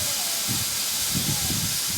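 A steam locomotive on the East Somerset heritage railway hisses continuously and loudly close by, with low rumbling puffs beneath and faint voices in the background.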